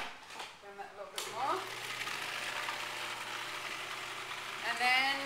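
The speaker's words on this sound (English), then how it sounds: "so I'm just going to blend that a little bit" A blender whirs steadily through zucchini pasta sauce after a short lead-in, its motor holding a low continuous drone with a slight rise in pitch toward the end; quiet overall.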